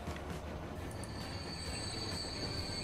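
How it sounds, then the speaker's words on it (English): A small yellow train runs along the tracks in the video game Transport Fever, a faint continuous rolling rumble with light wheel squeal and clatter and no talking. "A little yellow train."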